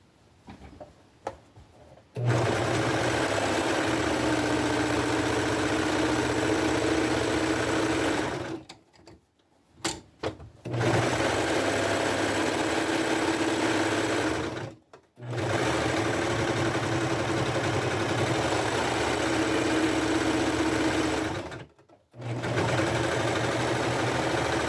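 A sewing machine runs through flannel for a patchwork tunic in long steady bursts of rapid stitching, loud and close, pausing briefly three times with small clicks of handling before whirring on again.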